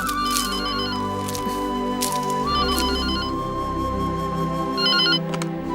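A telephone rings in a Malayalam drama, its electronic ringtone sounding in repeated bursts over a background music score, with no talking during the ringing.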